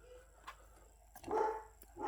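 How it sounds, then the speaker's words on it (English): A dog barks in short bursts nearby indoors, a few sharp woofs separated by pauses, louder toward the end, with no talking over it. "The dog's barking crazy."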